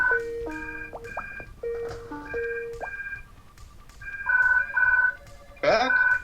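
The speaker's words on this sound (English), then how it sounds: "And the phone's ringing." A telephone rings indoors with several bursts of electronic warbling tones in an irregular pattern, loud and close, ending in a brief sharper chirp.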